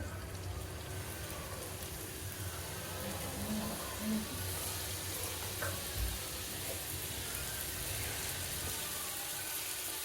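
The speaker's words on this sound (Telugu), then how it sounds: "ఇప్పుడు ఆయిల్లో వేసుకుందాము వన్ బై వన్ మెల్లగా వేసుకోండి" Kachi kayalu dropped into a pan of hot oil, frying with a steady, faint hiss and crackle throughout, a few small pops rising above the sizzle.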